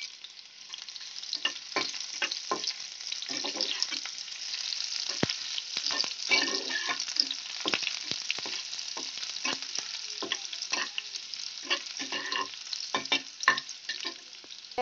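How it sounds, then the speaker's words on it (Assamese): Chopped onions frying in hot oil in a wok, a continuous close crackling sizzle dotted with frequent sharp pops and occasional stirring scrapes throughout. "আমি ইয়াতে কাটি থোৱা পিয়াজখিনি দি দিম।"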